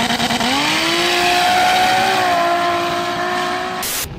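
A 1000-horsepower 2JZ-powered Polaris RZR roars loudly on sand, its engine pitch climbing and then holding a sustained high rev before cutting off abruptly, close and without talk.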